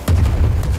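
An airship cannon fires in the video game Worlds Adrift, a single close, heavy boom with a low rumbling tail that lasts under a second.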